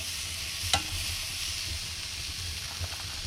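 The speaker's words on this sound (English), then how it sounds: "Now we're going to put on this nicely seasoned prime rib steak." A seasoned prime rib steak sizzles in a pizza oven with steady, soft hissing and a couple of sharp crackles.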